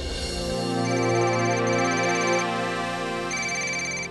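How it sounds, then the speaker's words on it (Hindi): A mobile phone ringtone plays loud and alone, a steady sustained electronic melody with layered tones ringing continuously for about four seconds. "हाँ एक मिनट, माँ का फोन।"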